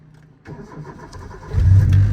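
Car with a 2ZZ engine cranking and self-starting after a quiet moment, then revving up loudly and holding a deep, steady roar close by.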